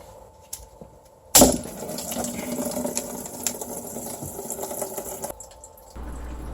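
Old, dirty fuel draining out of a fuel tank: a sudden onset of steady splashing, gushing liquid that runs continuously for several seconds, close and fairly loud, then shifts to a lower trickle.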